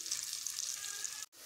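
Vegetables sautéing in a pan, giving a steady bright sizzle that holds evenly close by, then cuts out briefly near the end before resuming.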